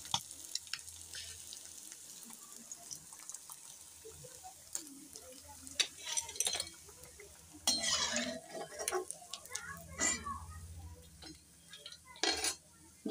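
Crisp morla fish pakoras in gram-flour batter are lifted out of hot frying oil. A soft, steady sizzle sits under sporadic metallic clinks and scrapes of a utensil against the pan, quiet and close.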